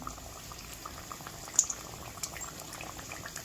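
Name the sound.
vadas for vada pav frying in oil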